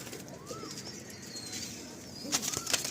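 Lalshira pigeons in a loft give soft coos and faint chirps amid a steady rustle of flapping wings, a sharper burst of wingbeats near the end, heard close but quiet with no talking.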